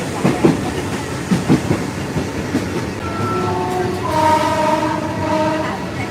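Passenger train in Thailand rolling toward Bang Sue station, heard from inside the carriage as a continuous rumble with a few clacking wheel beats early on, then sustained horn-like tones sounding partway through.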